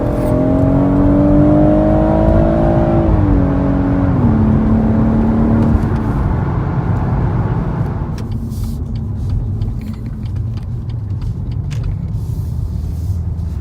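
A BMW M140i engine pulls hard under acceleration, loud and close, its tone climbing and stepping through gear changes before easing into a lower, steady drone.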